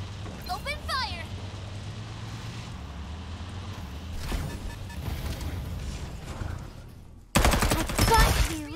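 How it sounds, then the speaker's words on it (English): Burst of video-game gunfire in Farlight 84, a loud rapid volley near the end after quieter game sounds and brief talk. "Open fire!"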